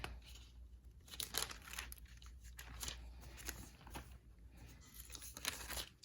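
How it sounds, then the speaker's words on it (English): Thin paper pages of a Bible being turned and flipped, soft rustles and crinkles coming in repeated bursts, quiet and close with no talking. "Let's go to another page"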